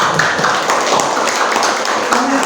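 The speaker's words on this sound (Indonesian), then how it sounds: "Beri aplaus dulu untuk Bu Rina." An audience applauds for Bu Rina at a school teacher-training presentation, with dense, steady clapping that holds at an even, fairly loud level.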